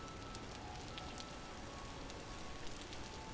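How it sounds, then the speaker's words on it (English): Hail falls in Vintage Story, a video game, as a faint, steady patter of small impacts spread evenly over a constant hiss. "And it's hailing."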